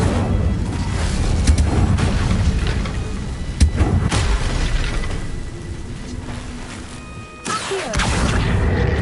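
A fiery Incendio spell blast from a video game erupts in booming, crashing bursts, with a loud whooshing impact near the end amid a busy effects mix.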